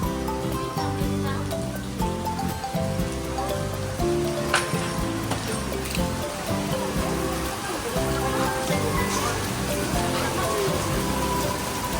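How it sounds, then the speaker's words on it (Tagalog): Steady heavy rain hisses throughout in the Ximending area of Taiwan, dense and continuous, with music and faint background sounds underneath. "Lakas talaga ng ulan."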